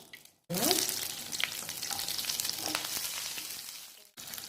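Ginger garlic paste hits hot oil in a pan for an egg thokku, bursting into a loud, steady sizzle with crackling spits and stirring scrapes, then briefly dropping away near the end.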